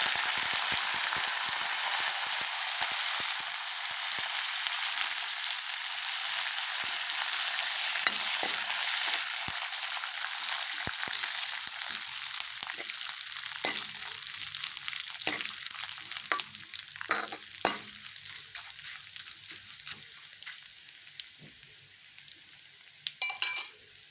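Curry leaves dropped into hot oil for chivda burst into a loud, crackling sizzle that gradually settles, followed by scattered spoon scrapes and clinks against the pan.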